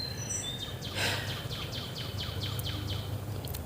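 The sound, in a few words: birds singing outdoors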